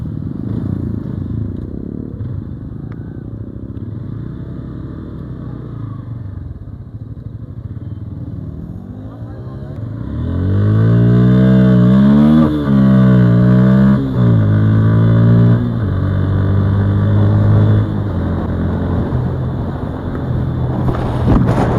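A motorcycle rides along with a low engine drone and wind rush, then the engine revs up loudly and shifts through rising and falling pitches as it accelerates, close and continuous with no voices.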